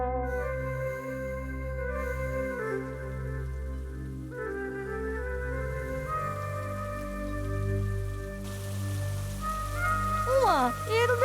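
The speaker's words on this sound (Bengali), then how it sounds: "এর দেখছি বৃষ্টি থামার কোনো নামই নিচ্ছে না" Steady rain falls and patters in a cartoon scene, a continuous wash beneath sustained music tones, with voices faintly present.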